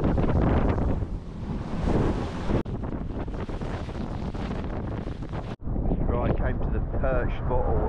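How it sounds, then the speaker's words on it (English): Strong wind buffets the microphone on a lake during perch fishing at a predator-fishing competition, a loud continuous roar with brief drops, over faint water and boat noise. "What a wind."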